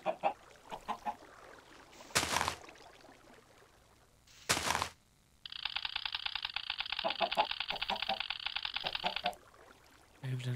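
A chicken in a modded Minecraft game clucks in short bursts among other game sounds, including sharp noise bursts and a sustained buzzing tone, fairly quiet overall with no speech.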